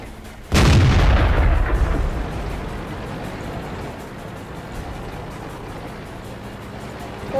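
Tank cannon fire in the World of Tanks video game during a 7v7 tournament match: one loud, sharp, booming blast that rolls off into a long fading rumble, followed by steady ambient battle noise.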